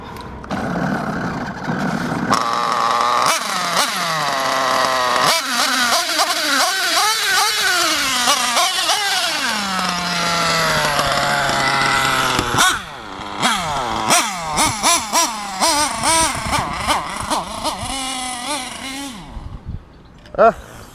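A Hobao Hyper ST nitro RC truggy engine is spun over with a starter box, whining and sputtering in rising and falling bursts close by, with talk and choppy stop-start revving toward the end.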